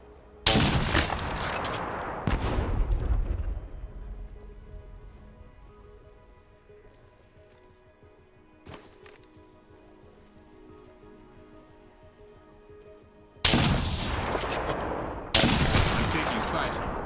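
Enemy gunfire in a video game: loud bursts of rapid shots open the scene, fade into a quiet stretch with ringing tones, then erupt again in heavy fire near the end.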